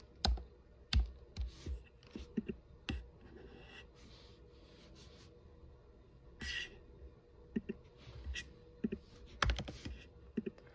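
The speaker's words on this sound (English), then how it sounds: "It's just annoying typing it in" A meeting code is typed on a computer keyboard: quiet, close key clicks in irregular bursts and pauses for about ten seconds.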